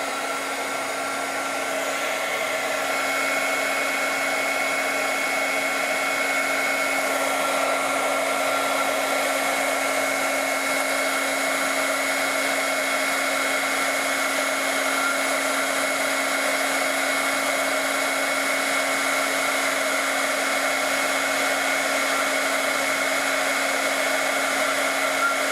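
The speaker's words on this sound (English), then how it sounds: "now we're going to heat up our heat tool and start to melt the plastic" A heat tool runs steadily while melting shrink plastic for 3-D flowers, giving a constant close whirring blower hum with a fixed whine, unbroken and alone for the whole stretch.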